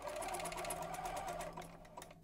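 Sewing machine stitching elastic onto fabric for homemade underwear, a fast, even, close mechanical whirr with rapid ticking needle strokes that slows and fades near the end, with no talking.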